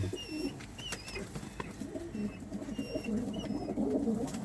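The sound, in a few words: pigeons cooing while being vaccinated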